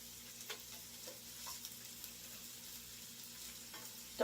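Kielbasa and pierogies fry quietly in a pan, a soft low sizzle with scattered faint pops and light clicks, ending in a slightly louder clatter.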